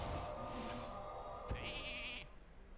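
A single sheep bleat from the Polymorph spell in Hearthstone, a short nasal bleat sounding alone over a quiet game backdrop with a soft thud just before.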